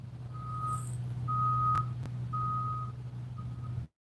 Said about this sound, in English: And that beeping's from barges